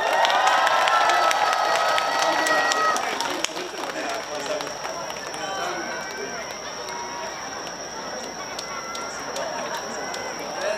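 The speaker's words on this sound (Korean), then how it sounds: "박수 한번 주십시오" An outdoor audience applauds and cheers at a concert in Goseong, producing a dense, continuous clatter of clapping with crowd noise that is loudest at first and then settles to a steady level, while voices carry over it.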